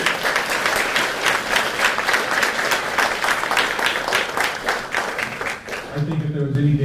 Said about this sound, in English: let's give Chad a round of applause.